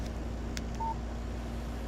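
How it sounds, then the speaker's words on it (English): In the Alan Wake video game, a phone's text message notification sounds as one short, clear electronic tone over a low steady background hum. "Text message from Barry."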